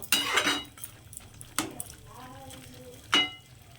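Metal clatter as a lid goes onto a pot of capsicum chicken cooking over low heat, with a few sharp clanks spaced out across a quiet kitchen.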